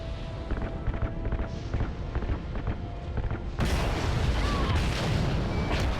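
Gunfire and booming blasts in the video game Call of Duty Ghosts, a dense run of shots and explosions that grows louder and more continuous partway through, with faint voices under it.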